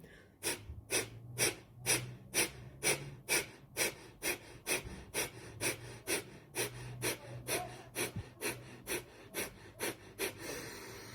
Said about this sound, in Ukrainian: Видихаємо активно, інтенсивно, а вдих він іде самостійно.